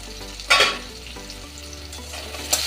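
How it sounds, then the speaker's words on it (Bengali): Diced potatoes fry in a pan with spices, giving a close sizzle broken by a couple of sharp bursts of stirring and spatula scrapes. "আলুটা একটু ভেজে নেবো"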